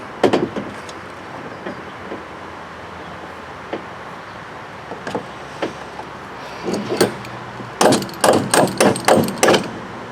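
Scattered sharp knocks, then a quick run of about six evenly spaced taps near the end, like light hammering on metal, close by, as a handle is hammered onto a truck bed drawer.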